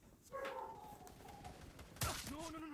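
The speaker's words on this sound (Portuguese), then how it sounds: "O barulho dos tiros" Gunfire echoes in the Hyper Front video game, a burst of shots early and a sharper loud crack about two seconds in, ringing and reverberating, with a voice faintly underneath.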